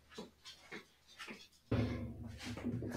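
A dog pants near a microphone in a home, breathing in quick bursts that grow louder and denser partway through, with no talking.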